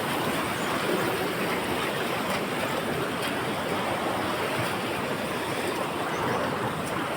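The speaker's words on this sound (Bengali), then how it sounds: "এই পানি ঝর্ণার পানি, এই সে ঝর্ণা" Water from a waterfall in Kathmandu, Nepal, pumped upward so it flows like a river, rushes in a steady, dense roar that stays constant throughout without a break.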